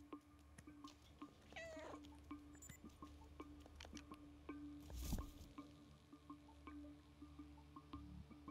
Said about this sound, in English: We gotta meow, right?